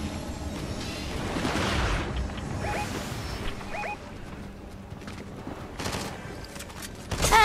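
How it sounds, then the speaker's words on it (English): Gunfire in the video game Fortnite, bursts of shots and crackling hits mixed with whooshing movement and a sharp crash near the end, close and busy without speech. "He's shooting me."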